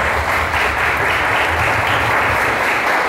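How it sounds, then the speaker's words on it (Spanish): Loud, steady applause from an audience at the close of an interview with a professor, continuous dense clapping filling the whole stretch with no speech over it. "la vamos a despedir con un fuerte voto de aplausos"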